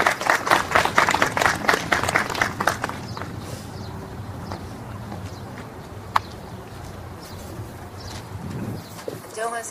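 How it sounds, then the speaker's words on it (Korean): An audience at a literary award ceremony claps loudly for a few seconds to welcome a speaker, then the applause fades into quiet room noise with a few faint thumps. "큰 박수로 맞아주세요"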